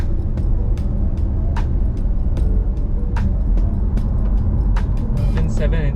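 A Porsche 911 GT3 accelerates out of a corner on a track, its engine a loud, dense low rumble heard from inside the car, with sharp transient clicks and bumps over it and a voice speaking.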